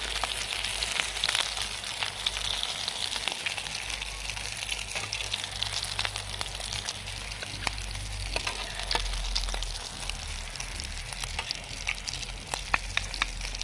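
Chicken shami kabab patties frying in oil in a pan, with a continuous close sizzle, sharp pops and crackles, and occasional stirring or turning scrapes, no voices.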